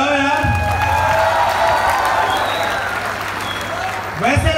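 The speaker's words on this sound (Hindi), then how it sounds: "जोरदार एक बार तालियां तो बजाओ यार।" Audience applause fills an auditorium at a comedy show for army personnel, loud and steady throughout with crowd noise and a few whoops, easing slightly near the end.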